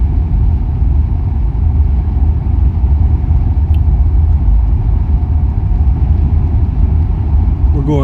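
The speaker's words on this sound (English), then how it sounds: "We're going right into a north wind now. You can probably hear it in the mic." Strong north wind buffets a microphone inside a moving car on a scenic Texas Hill Country drive, a steady low rumble of wind and road noise filling the whole stretch without pause.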